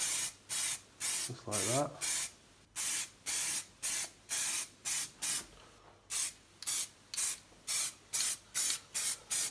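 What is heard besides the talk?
spray can applying primer coat to RC crawler parts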